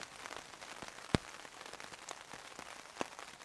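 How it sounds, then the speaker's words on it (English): Rain falls steadily in woodland at a wild camp with a simple shelter, a soft, continuous patter with a couple of sharper, louder drops landing nearby. "it's raining and it's forecast rain all day tomorrow"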